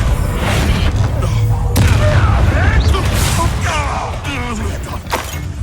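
Confringo explosive spell cast in the video game Hogwarts Legacy, heavy booms and blasts going off amid busy combat noise, with voices talking over the action.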